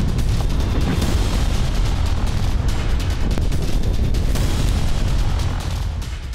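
Loud, rumbling blasts of Russian FAB bombs striking buildings in Ukraine, with heavy low-end booms and crackling debris, sustained throughout and tapering slightly at the end.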